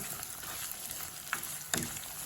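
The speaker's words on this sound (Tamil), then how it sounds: "நல்லா தாளிக்க விடுவோம். நல்லா தாளித்து பொன்னிறமாக வரணும்." Green chillies and spices tempering in hot oil for a tinned fish curry, a steady sizzle throughout with a couple of sharp stirring clicks partway through.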